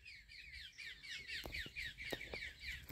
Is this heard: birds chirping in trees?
yes